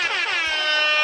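A bright, harmonically rich air horn blares loudly and continuously for about a second as a sound effect in the Snake.is game, sustained with no talking over it.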